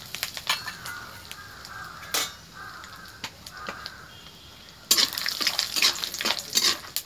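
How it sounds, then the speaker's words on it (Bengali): Crows caw nearby over a soft sizzle as peanuts fry in hot oil in a wok over a wood fire, a metal spatula scraping and stirring, with a louder burst of frying toward the end. "প্রথমে আমি বাদামগুলো ভেজে নিচ্ছি।"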